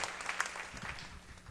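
Congregation clapping in a church, a fairly quiet, dense patter of hands sustained throughout with a few sharper claps standing out, with faint voices murmuring underneath.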